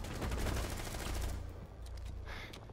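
In Rainbow Six Siege, a rapid string of gunshots rattles loudly at first, then gives way to quieter scattered impacts and softer clatter.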